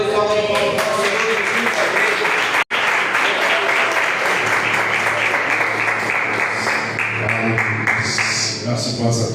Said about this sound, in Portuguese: Salve de palmas para o Senhor.